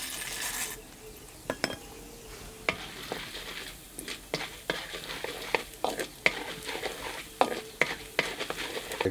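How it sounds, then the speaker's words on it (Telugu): Chana dal sizzling in hot ghee for cashew upma, with a steady frying hiss broken by frequent sharp clinks and scrapes of a spoon stirring against the pan, close and alone. "ఇప్పుడు రెండు చెంచాలు నెయ్యి వేసుకుని నెయ్యి వేడెక్కాక ముందుగా పచ్చి అనుపప్పు వేసుకుందాం"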